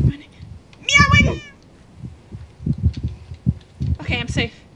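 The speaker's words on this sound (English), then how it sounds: "Meowing!" Cat meows in the Minecraft video game, two bright rising-and-falling mews, one near the start and one near the end, with people talking quietly in between.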